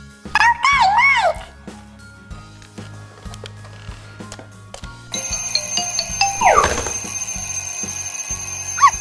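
A toy alarm clock rings in bursts of warbling electronic tones over a rhythmic ticking, then rings again louder and more continuously in the second half amid clattering handling sounds.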